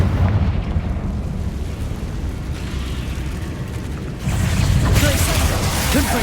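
A Confringo fire spell in a Harry Potter game, Hogwarts Legacy, erupts as a loud, sustained rumbling blast that swells again partway through, with crackling debris over the roar.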